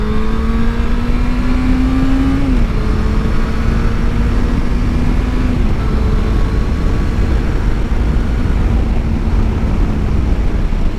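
A 19-year-old Yamaha FZS 600 motorcycle accelerates hard, its loud engine note rising steadily in pitch through the gears with brief drops at each shift, steady and close throughout.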